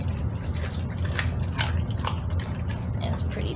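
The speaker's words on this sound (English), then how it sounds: "Now you gotta chew, man. You gotta chew." A Dogo Argentino dog chews its birthday meal of raw food with skin on it, giving off wet, squelching bites and crunches at close range in irregular bursts over a low background rumble.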